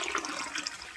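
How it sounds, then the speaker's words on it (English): Tap water running steadily into a 2-cup measuring cup while making spaghetti, a continuous close splashing stream with no voices. "We're gonna put 4 cups of water in there."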